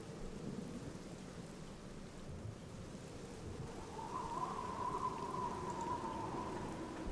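Steady rain pours down in a dark graveyard in the Black Mirror game, a dense unbroken hiss with a faint low tonal drone rising partway through.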